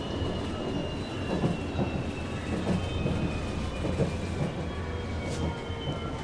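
An MRT train running at Ceras station in Kuala Lumpur gives a steady, moderately loud rumble of wheels and motor throughout, with no voices over it.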